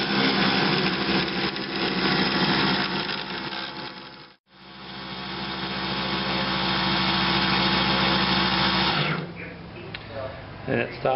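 An AVL automatic bobbin winder runs with a loud, steady mechanical whir, briefly cuts out, spins back up, then winds down to a stop near the end.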